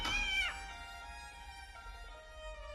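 A white kitten meows as an audiobook sound effect, one short high mew followed by a faint lingering tone over a steady low background hum.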